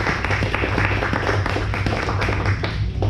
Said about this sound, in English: So a round of applause for all those.